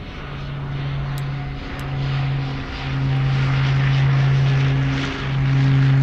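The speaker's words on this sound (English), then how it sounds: "I'm hearing a big plane power up." A large airliner spools up its engines for takeoff from runway 25 left, a loud steady drone with a low sustained hum rising gradually and holding, no talk over it.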